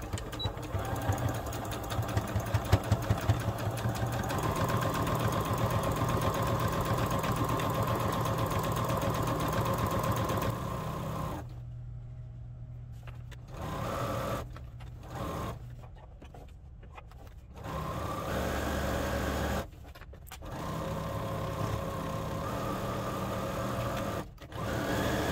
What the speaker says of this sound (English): we're just gonna do that 1/2 inch seam allowance right down that long edge